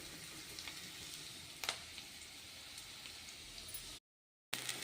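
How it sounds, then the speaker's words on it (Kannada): Food frying in a pan gives a steady, dense sizzle with a few brief crackles, close and fairly quiet, running alone without talk before a short gap. "ಫ್ರೈ ಆಗಲಿ."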